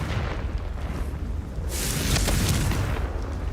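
A Confringo blasting spell explodes in a loud, sustained boom that swells suddenly partway through and rumbles on without fading.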